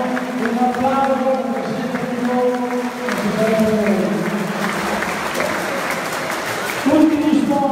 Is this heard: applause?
yes